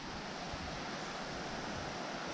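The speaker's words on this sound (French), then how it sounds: "on entend la rivière" A jungle river in Namtok Phlio National Park, Thailand, gives a constant, even rushing wash. The sound is moderately loud and steady throughout, with no voices.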